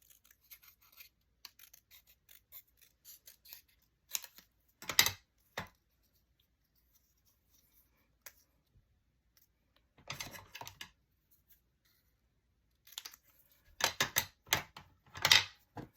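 Sharp snipping and clicking of scissors against a glass craft mat, in short scattered bursts separated by quiet pauses.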